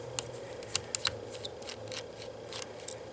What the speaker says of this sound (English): We have 2 screws at the top and 2 screws at the bottom. And we're going to do that now.